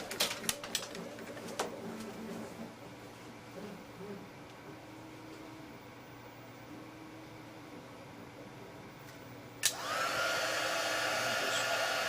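A heat gun switches on partway through and blows a steady loud whoosh while shrinking heat shrink tubing on wires for a robot controller board, after a stretch of quiet handling clicks.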